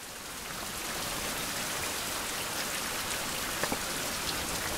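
Rain in the survival video game Survival: Fountain of Youth, a steady, even hiss of falling water that holds without pause, with no voices.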